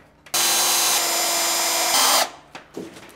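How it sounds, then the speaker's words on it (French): A power drill bores holes in wooden shelf supports for a flat-pack kitchen counter, with one loud, steady whirring run of about two seconds close up that ends abruptly, followed by a couple of light knocks. "Ensuite, répercez et alésez les trous."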